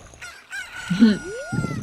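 A chicken in Kakariko Village in Zelda: Ocarina of Time gives one short, close, clucking crow that rises into a drawn-out call, with brief clucks after it.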